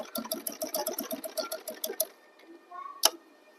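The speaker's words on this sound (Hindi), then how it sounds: "और फिर दोबारा इस पर सिलाई लगा कर लाएंगे" An electric sewing machine stitches a kurta placket in a fast, even, rattling run for about two seconds, then stops, leaving a soft hum and one sharp click.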